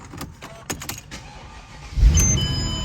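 A Mercedes CLS55 is started with the key: a few clicks and jingles, then the starter catches and the engine fires into a loud, steady idle, close by.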